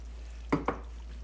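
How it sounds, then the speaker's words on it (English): A spoon stirs simmering gumbo with shrimp and okra in a pot, producing two quick soft scraping knocks close by against a steady low background hum. "Gonna give this a stir, and we will continue to simmer this for about 5 minutes"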